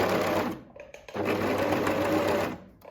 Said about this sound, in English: I'll start cutting off the seam allowance with my serger